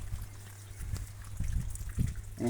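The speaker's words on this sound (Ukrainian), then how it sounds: "і йде холодна вода ось уже по системі" Cold water trickles and gurgles through a home drip irrigation system, a low continuous flow with small splashes and dribbles rising toward the end.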